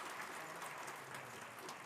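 Steady applause from a roomful of people at a European Poker Tour event in Prague fills the space, a dense even patter of many hands clapping at moderate distance.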